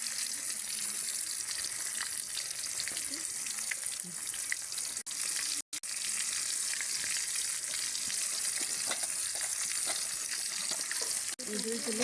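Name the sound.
hilsa fish pieces frying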